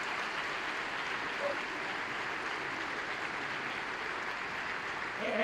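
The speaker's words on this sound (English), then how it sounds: "allowing them a round of applause for all their support." Steady applause from a commencement audience honoring graduates' families and friends, a continuous dense wash of many hands clapping at moderate level throughout, with no voices rising above it.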